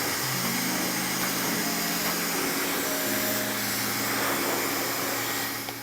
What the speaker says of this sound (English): a hairdryer, and I'm literally gonna brush the hair away from the scalp in an upwards direction all the way over